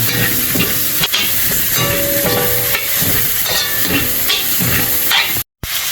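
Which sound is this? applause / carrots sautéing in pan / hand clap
carrots sautéing in pan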